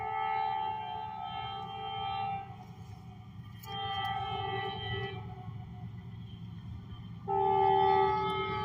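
A freight train's horn sounds in several long, steady multi-tone blasts over the low rumble of rolling cars, with a louder final blast near the end.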